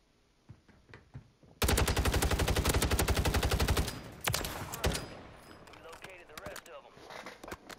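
Rapid automatic weapon fire in a video game shooter: a loud, sustained burst of evenly spaced shots lasting about two seconds, followed by scattered fainter shots and rumble.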